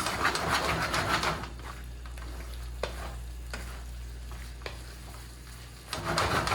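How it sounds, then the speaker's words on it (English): Beef strips hit a wok of green pepper and black bean sauce, giving a steady close sizzle with stirring scrapes and occasional sharp clinks from a utensil, louder bursts at the start and end. "So I'm going to go ahead and add our beef into this."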